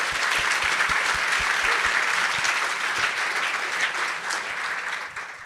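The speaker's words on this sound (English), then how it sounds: "let's give them a round of applause, everybody" An audience at a tech conference breakout session gives a round of applause, loud and dense clapping that holds steady before slowly thinning toward the end.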